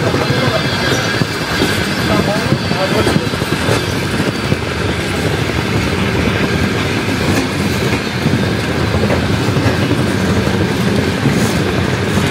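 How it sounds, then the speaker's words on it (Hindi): A fast train between Samarkand and Tashkent in Uzbekistan rolls steadily along, a loud continuous rumble with rail clatter and faint wheel squeal throughout, heard from on board. "लेकिन ये ट्रेन जो है वो जा रही है, बिल्कुल पाकिस्तान वाली ट्रेन लग रही है।"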